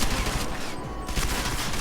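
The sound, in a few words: gunfire in the video game Deus Ex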